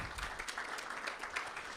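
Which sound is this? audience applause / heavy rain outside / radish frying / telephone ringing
audience applause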